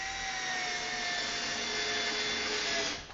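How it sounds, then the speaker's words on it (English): A Ryobi Quick Turn 4-volt battery screwdriver drives a screw into pine without a pilot hole, giving a steady, fairly loud motor whine that runs evenly for about three seconds before cutting off, with no talk. "let's try driving some screws straight into pine without a pilot hole"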